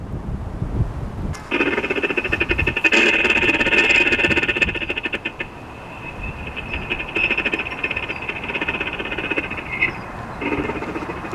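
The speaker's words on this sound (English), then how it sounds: "I think that sound is supposed to be a rattlesnake rattle" A bridge gives off a harsh, sustained mechanical rattle and hiss, like a rattlesnake rattle, loud and continuous, with clattering bursts that fade and return over several seconds.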